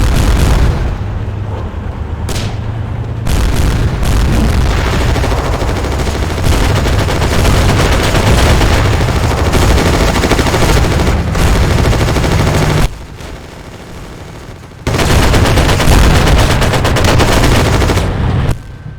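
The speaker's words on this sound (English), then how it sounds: "LMG's just laying in to the French barracks." Light machine gun fire rakes the French barracks in the WWII Online battle game: loud, continuous rattling bursts with heavy booms layered in, a brief lull near the end, then the firing resumes at full intensity.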